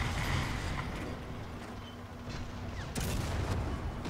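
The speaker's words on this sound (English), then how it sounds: "Requesting for artillery fire" Artillery fire in the War Thunder tank game, M41A1 realistic battle: dense rumbling bombardment and scattered booms roll continuously under a noisy battlefield din, with a sharper blast near the end.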